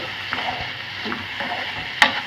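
Carrots and beaten egg frying in a pan for a green peas egg fry, stirred with steady sizzling and a few soft scraping strokes, one sharper clatter near the end, no voices.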